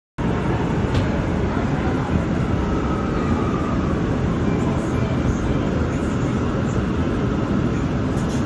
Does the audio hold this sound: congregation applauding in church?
no